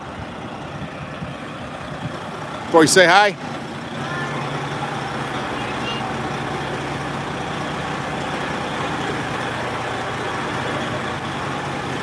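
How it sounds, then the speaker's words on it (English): Trucks backing into a shop on a bitterly cold night make a steady, low engine drone that holds throughout, with a brief loud burst near the start and a short spoken phrase over the rumble. "So they're backing a lot of the trucks in for the weekend."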